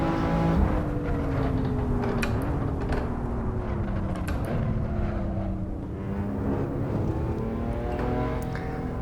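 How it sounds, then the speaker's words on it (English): A BMW M4 on semi-slick tyres driven hard on a hotlap, its engine loud and close with continuous revving that rises through the gears and dips on downshifts, accompanied by steady road and tyre roar. "And again we go with the BMW M4, this time on semi-slicks."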